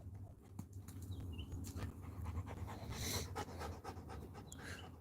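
A dog panting hard outdoors after repeatedly fetching a ball, with steady rapid breaths up close and faint bird chirps in the background.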